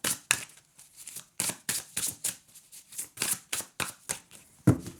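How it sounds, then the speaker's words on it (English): Tarot cards being shuffled up close: a series of quick papery riffles and flicks, irregular bursts separated by short pauses, with no talking. "I'm going to give it a quick shuffle"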